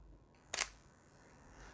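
A single sharp shutter release from a Sony camera firing a high-speed-sync flash at 1/4000 second, one crisp, close click standing alone in a quiet room.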